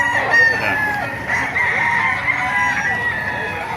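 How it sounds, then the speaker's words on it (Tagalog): Several roosters crow over one another in a busy farmyard in Bukawi, Philippines, long drawn-out calls overlapping with clucking hens and faint background chatter. "Maraming manok ngayon dito sa Bukawi."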